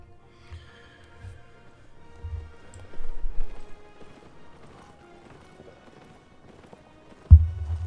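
A horse is ridden in the video game Albion Online, giving a soft, rhythmic clip-clop of hooves under light game ambience. A louder thud comes near the end.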